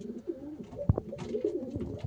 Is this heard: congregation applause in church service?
no